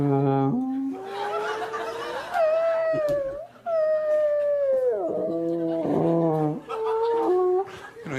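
A voice imitates whale noises with long, sliding, moaning wails that rise and fall in pitch, delivered in several drawn-out phrases.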